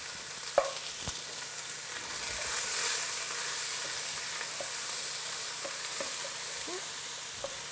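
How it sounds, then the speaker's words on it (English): A Thai fish stew is stirred in a pot with a soft, continuous bubbling sizzle, with a few light clicks of the utensil against the pot at close range. "Just going to give that a little stir."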